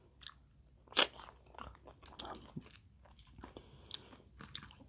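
Spicy nachos with sour cream being eaten up close, with sharp crunchy bites, one especially loud, followed by quieter wet chewing in an uneven rhythm.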